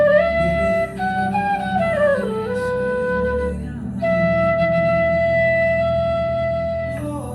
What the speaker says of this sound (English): So this is a D flute